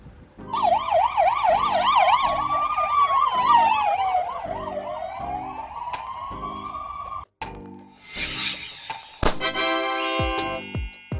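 Hungarian ambulance siren, from vans such as the Mercedes-Benz Sprinter, Fiat Ducato or Volkswagen Crafter: a loud, close wailing tone sweeping up and down over engine rumble, then shifting to a slow wail before sharp electronic yelps and tones near the end.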